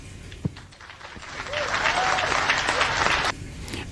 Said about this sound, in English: Big smile, big applause.